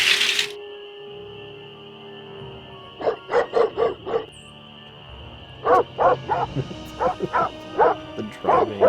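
Dogs barking in bursts, a quick run of four or five yips and barks followed after a pause by a longer, louder series of excited barks, fairly close, with a faint voice at the very start.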